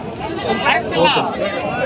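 Goats bleat in a crowded livestock market at Gudur, mostly billy goats, several wavering calls overlapping with people talking nearby.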